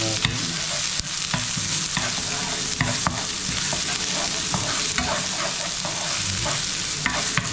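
Onions sizzling in hot oil while being stirred for eggplant adobo with ground pork, a loud continuous frying hiss with repeated scraping strokes of the utensil.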